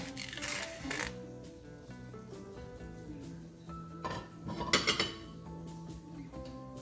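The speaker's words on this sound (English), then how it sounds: "I'm going to scoop it out now." A spoon scooping a poached egg out of a pot of water, giving a few light metallic clinks and scrapes against the pot, close by over faint steady background tones.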